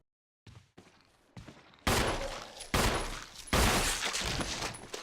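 Gunshots in the video game Resident Evil Remake: a few faint pops at first, then three loud, close blasts, each trailing into a long noisy rumble.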